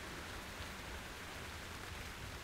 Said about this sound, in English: it's raining outside now in Las Vegas